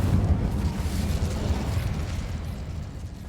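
Incendio fire spell from Hogwarts Legacy burning hall clumps, a steady roaring whoosh of flame with a low rumbling body, loud and sustained throughout with no talking.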